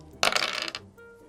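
Two D10 tabletop dice clatter onto a hard surface in a burst of rapid, bright rattling taps that settles within about half a second, followed by a faint trailing tick, close and alone.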